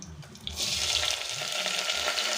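Garlic, ginger, green chilies and curry leaves sizzle in hot coconut oil, a steady close frying hiss that swells after a brief quieter start and holds for the rest, with no talk.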